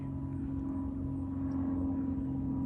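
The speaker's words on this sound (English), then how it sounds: "You can even see his prop on his plane spinning." A low-flying propeller airplane passes over a pasture, its steady droning engine hum loud and continuous throughout with no talking.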